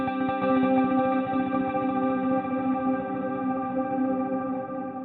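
A guitar played through a Strymon Nightsky reverb pedal rings out in a lush, sustained wash of reverb, its chordal tones lingering and slowly fading over several seconds with no talk.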